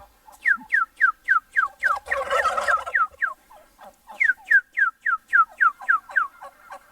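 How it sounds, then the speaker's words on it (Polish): Turkeys gobble in an outdoor run, a close, loud series of rapid rattling calls repeated in quick succession, with a brief burst of noisy flapping or scuffling in the middle before the gobbling resumes. "Tak wygląda indyk na wybiegu."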